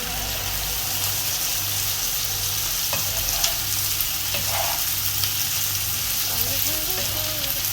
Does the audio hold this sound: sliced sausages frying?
yes